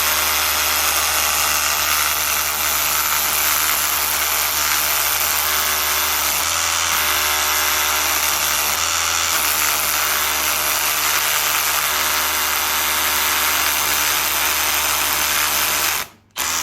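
A power drill boring a 6mm hole into a wall runs as one loud, steady whine for about sixteen seconds, close by, then stops abruptly at the end.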